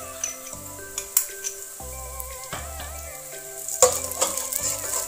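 Chillies and onions sizzle in a hot pan for a fish pasta, a steady close frying hiss with occasional stirring clinks and scrapes.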